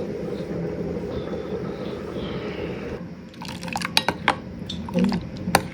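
Thick first-press coconut milk poured back and forth between vessels to cool it for a sweet purple yam dessert. A smooth, continuous liquid stream gives way to splashy pours, drips and light clinks of metal vessels, close and clear.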